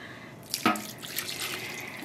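White vinegar poured into a container of about eight cups of water, a faint brief liquid splash and trickle in a quiet room with no talking.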